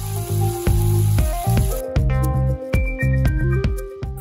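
Chunchullo, beef tripe, crisping in a pan, with loud close sizzling and spattering that comes in short repeated bursts alongside music-like tonal sounds, no voices.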